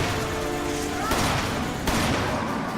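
Gatling gun fire in the video game Resident Evil 5, a dense continuous roar of rapid shots with two heavier blasts cutting in partway through.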